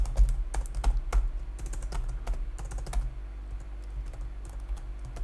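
Fast, irregular typing on a computer keyboard while entering a command in a terminal, keystrokes clattering in quick bursts at close range, then thinning to sparser taps, with no talking.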